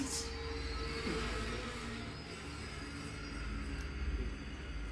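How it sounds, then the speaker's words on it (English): A train roars through a bus in a crash scene from the action film Red Heat: a loud, continuous rolling rumble with faint metallic squeal, steady and close for the whole stretch. "And that train tears that bus in half."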